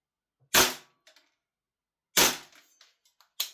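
Two loud, sharp gas blowback shots from a Secutor Centurion II MWS airsoft rifle, about 1.6 seconds apart, each followed by a brief mechanical clatter, with a third shot starting at the very end.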